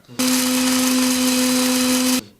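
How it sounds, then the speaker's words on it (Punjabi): Electric spice grinder whirring steadily as it grinds whole spices into fine powder, a loud continuous motor drone with a high grinding hiss, starting abruptly and cutting off after about two seconds. "ਕੌਲੀ ਨੂੰ ਲੈ ਕੇ ਪਾ ਕੇ ਆਪਣਾ ਗ੍ਰਾਈਂਡਰ ਔਨ ਕਰ ਲੈਣਾ"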